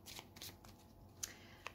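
Kipper Mystic cards are drawn from a deck with soft, quick, close papery slides and flicks, plus two small crisp snaps near the end, recorded quietly with no talking.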